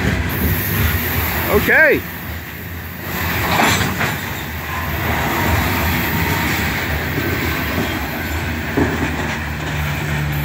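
A loaded Norfolk Southern coal drag rolls steadily past with an EMD SD70ACe trailing, a continuous near rumble of wagons with a brief wheel squeal early on and a short spoken word.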